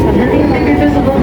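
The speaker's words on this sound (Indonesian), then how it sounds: "Dan gua udah di KRL mau ke stasiun Duri dulu buat transit." A KRL commuter line train rides toward Jakarta stations, a loud, steady low rumble of the carriage in motion, with people talking over the noise.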